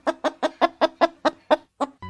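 A voice imitates a rooster crowing with a rapid string of about nine clipped, evenly spaced syllables, loud and close, ending in a longer drawn-out note.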